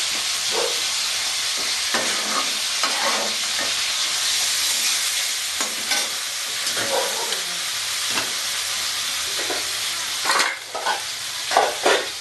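Sliced onions frying into crisp beresta for Bengali-style chicken biryani: a steady loud sizzle in hot oil, broken by repeated stirring scrapes, with no talk.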